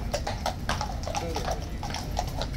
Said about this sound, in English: Here come the new lifeguard horses in the yard.